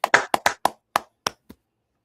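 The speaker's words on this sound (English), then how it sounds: "Clap it up." Eight sharp hand claps in an uneven, slowing sequence at a religious group gathering, loud and close at first and fading toward the last few, with no talk over them.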